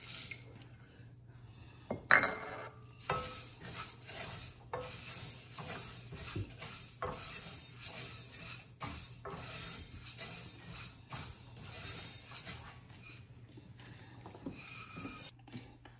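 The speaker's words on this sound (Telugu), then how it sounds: "అలానే మినపప్పు కూడా డ్రై రోస్ట్ చేయాలి." Urad dal is dry roasted in a pan, stirred with a utensil: soft, continuous scraping and rasping with occasional light clinks, close and quiet, with no talking.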